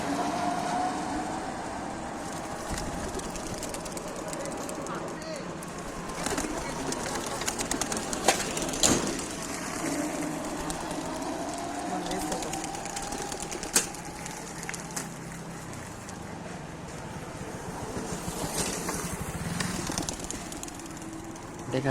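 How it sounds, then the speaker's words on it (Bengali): Silver racing pigeons released outdoors for a race, wings flapping under steady background rumble resembling a passing train, with a few faint sharp claps of wingbeats rising over continuous noise. "কবুতরগুলা ছাড়লাম, সেম কবুতর।"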